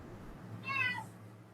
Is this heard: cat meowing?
yes